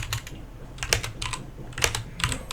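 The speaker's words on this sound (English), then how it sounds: "Yeah, keyboard's loud, I know that." Loud typing on a computer keyboard: rapid, uneven clusters of sharp clacks, close and prominent, continuing throughout with no talking.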